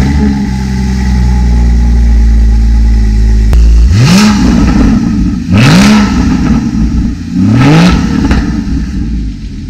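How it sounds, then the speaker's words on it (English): A Porsche GT4's naturally aspirated boxer engine idles loudly, then its exhaust roars through three sharp, rising revs in succession, each blip climbing and falling back, close and powerful with no voices. "what I particularly like from this car is the exhaust note"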